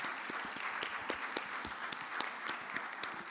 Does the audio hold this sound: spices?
no